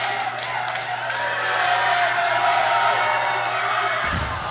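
Canadian supporters in a powerlifting arena crowd at a world junior championship cheering and whooping loudly and steadily, ending in a sudden thud, with faint commentary underneath.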